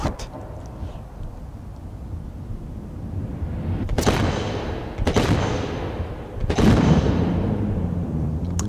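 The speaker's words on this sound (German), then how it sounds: "Okay, das waren jetzt 6 Schüsse." Three sharp gunshot bursts ring out at regular intervals in the video game Ride To Hell: Retribution, loud and close over a constant rumbling game backdrop.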